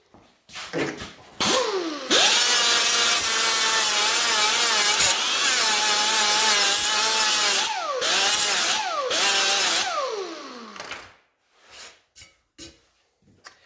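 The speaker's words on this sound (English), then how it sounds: "But I got weight up here on the grinder, so I can actually keep grinding up here." An angle grinder grinds welds on 22 gauge sheet metal, spinning up into a loud sustained high-pitched whine that dips and rises under pressure, then winds down.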